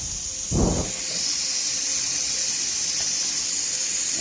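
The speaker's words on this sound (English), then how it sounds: "Make sure you massage and wash the whole scalp." Water running from a tap while hair is washed, a steady close hiss of flowing water after a brief louder splash near the start, continuing evenly to the end.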